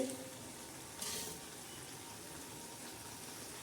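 Chicken samosa masala filling steaming in a pan, giving a soft, steady hiss and faint sizzle, with a brief brighter splash of sound near the start, then an even low simmer.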